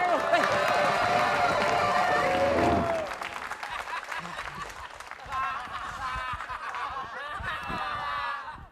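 Studio audience applause on an Indonesian TV comedy show, loud clapping under a band tone at first, then continuing more loosely with chatter and laughter over it.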